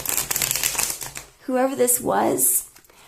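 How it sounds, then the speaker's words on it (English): Tarot cards being shuffled, a quick riffling patter that starts under a voice talking, before the voice carries on alone. "I'm going to shuffle it twice, and then we're going to roll the deck."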